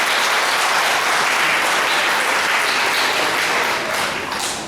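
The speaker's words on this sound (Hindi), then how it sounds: "अपने लिए एक बार जोरदार तालियां बजा दीजिए" Loud, sustained applause from an audience at a college legal awareness program and certificate ceremony, with many hands clapping densely and evenly, tapering a little in the final second.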